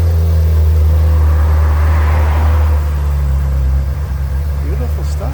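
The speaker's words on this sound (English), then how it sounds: "We got a nice Ferrari coming out here right now. It's going for a drive." A white Ferrari pulls out of a car storage facility, its engine a steady low rumble that holds close and loud, then eases slightly toward the end, with people talking over it.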